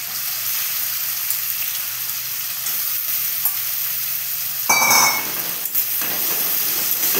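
Onions sizzle steadily with chopped garlic and ginger in a hot pan for a chicken stew, with a brief louder crackle and stir partway through before settling back to an even fry.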